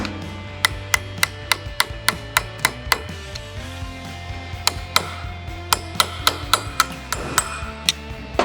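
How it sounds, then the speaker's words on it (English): Sharp metallic taps of a screwdriver struck by a hammer, tapping down the lock flap on a CSC RX4 motorcycle clutch nut; a long irregular series of close, ringing hits with brief pauses between bursts. "I'm going to tap down that safety flap with a screwdriver and hammer"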